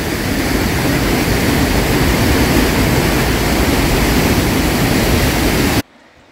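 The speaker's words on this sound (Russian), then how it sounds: "Много было осадков, поэтому такой большой поток воды." Fast, clean mountain water swollen by heavy rainfall pours down in a waterfall in Abkhazia, a loud, steady, broadband roar close by that cuts off abruptly near the end.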